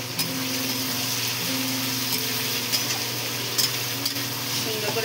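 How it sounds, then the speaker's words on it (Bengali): Prawns for a Bengali chingri chorchori frying in hot oil in a pan, a steady close-up sizzle with occasional stirring scrapes and light utensil taps throughout. "এবার দিয়ে দেবো চিংড়ি মাছটা।"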